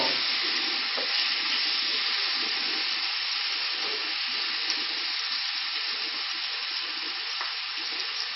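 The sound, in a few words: bacon frying in a pan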